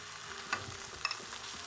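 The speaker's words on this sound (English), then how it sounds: "Now, to cook the salmon, let's put in the salmon." Salmon fillet with skin on, frying skin-side down in a pan and weighted under a second pan, giving a soft steady sizzle with a couple of faint clinks, no voices.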